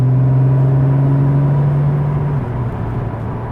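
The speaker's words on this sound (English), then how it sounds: "Keep the transmission in normal mode. You hear the shifts." A 2009 Porsche Carrera 4S (997.2) engine hums loudly inside the cabin, its steady drone dropping in pitch partway through as the first-generation PDK dual-clutch transmission shifts gear in normal mode.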